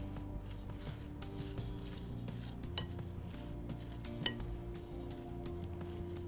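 Extraordinary slaw is mixed around in a bowl, a soft steady stirring with scraping and occasional light clinks of utensil against the dish under a low hum, close by and fairly quiet.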